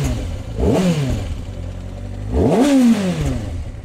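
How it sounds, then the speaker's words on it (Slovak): A 2024 Kawasaki ZX-6R 636 motorcycle engine is revved twice, each blip rising sharply and then falling back to a low idle, loud and close with nothing else over it. "počujete typický motor, typický zvuk naštvanej šestovky"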